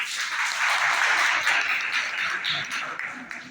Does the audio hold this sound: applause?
yes